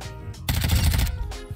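Shotgun fire in Call of Duty: Modern Warfare 2, a loud dense burst of blasts lasting about half a second, with fainter game noise before and after.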